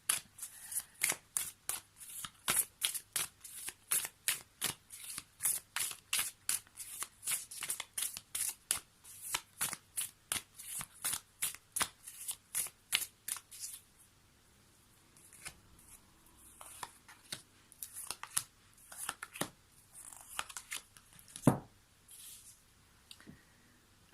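Oracle cards are shuffled by hand in a rapid run of crisp, close flicking snaps, then the pace slows to scattered, irregular card taps and slides.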